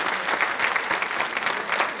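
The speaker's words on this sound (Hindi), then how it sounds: "एक बार जोरदार तालियां आनंदीबाई जोशी जी के लिए" Loud, dense applause from a studio audience at a televised Rajasthani quiz show, steady clapping filling the moment after a tribute to Anandibai Joshi.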